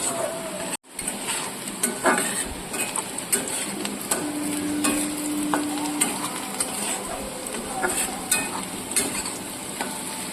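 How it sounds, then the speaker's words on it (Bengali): Onions fry steadily in a pan for a prawn curry, a loud continuous sizzle broken by frequent scraping and clinking as they are stirred, with no voices. "পেঁয়াজ ভাজা হচ্ছে, ব্রাউন কালার না আসা পর্যন্ত আমি ভাজবো।"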